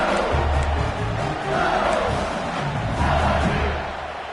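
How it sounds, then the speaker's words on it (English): The crowd at an LSU versus Texas football game is on its feet in the stadium, yelling and screaming in a loud, continuous roar that swells and fades a little over several seconds. "They are on their feet, yelling, screaming."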